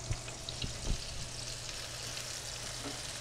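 Onions saute in a pan for an Italian meatloaf, a steady soft sizzle and crackle close by, with occasional light stirring clicks and no voices.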